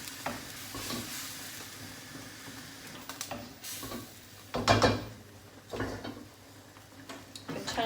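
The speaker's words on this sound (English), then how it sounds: "my veg is going in my sauce" Vegetables stirred into a coconut curry sauce in a pan for a prawn curry, with soft irregular scrapes and clinks over a faint low simmer, one louder clatter midway.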